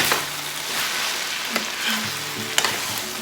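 Lao style fried noodles (kua mee) stir-fried in a pan, a loud, continuous close sizzle with a few sharp scrapes and taps of a utensil against the pan, no talking.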